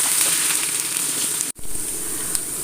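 Garlic and slit green chillies being sautéed in a pan for mango pickle, a close, steady hiss of frying that cuts out abruptly for a split second and then resumes just as loud.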